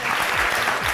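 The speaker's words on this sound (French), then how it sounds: "on l'applaudit très très fort" Dense, loud applause from a television talent show studio audience for a female contestant, steady and continuous for the whole moment.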